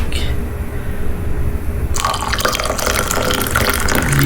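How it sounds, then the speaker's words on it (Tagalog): Hot water pours steadily into a container, a continuous splashing, filling stream that starts after a short quiet moment and carries on close and fairly loud to the end. "So, lagyan natin ang mainit na tubig."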